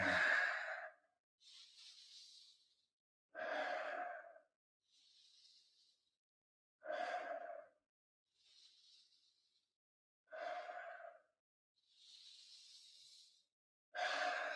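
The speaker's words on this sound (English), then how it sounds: "Inhaling through the nose, exhaling through the mouth" Slow, steady breathing during a guided breathing meditation, drawing air in through the nose and letting it out through the mouth. Four close, soft cycles alternate a hissy inhale with a fuller exhale, separated by brief silences.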